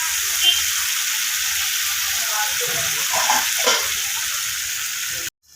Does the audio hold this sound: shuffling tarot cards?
no